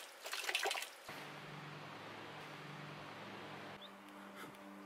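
Fresh water pours steadily into a water bottle outdoors on a mountain trek in the Aosta Valley, a close, continuous gurgling trickle after a short burst of rustling at the start.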